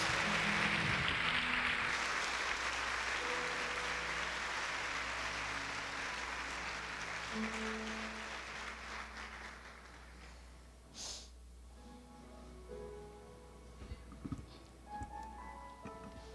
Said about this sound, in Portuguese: Aplauda o nosso amor essa noite.